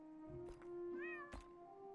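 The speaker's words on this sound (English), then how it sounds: "yeah, you hear that? That's the cat." A cartoon cat in the game Poptropica meows twice, each call short and clear with a rising-and-falling pitch, sitting over a steady musical background with brief clicks between the meows.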